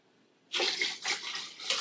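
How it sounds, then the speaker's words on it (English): Water pours steadily into the reservoir of a 2020 Nespresso VertuoPlus Deluxe coffee machine, starting abruptly after a short silence and running as a close, splashy stream with slight surges. "So I'm going to pour my water."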